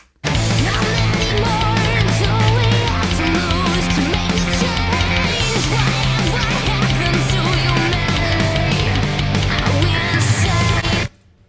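A dense, loud song with the JST Billy Decker mastering plugin switched off, deep bass notes and busy upper layers, plays without pause for about ten seconds, then cuts off, with no talking.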